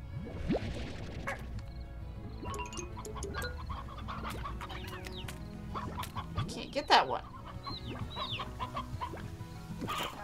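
Chickens cluck in the Slime Rancher video game, with scattered hen calls against busy game noise and music while a person talks over most of it.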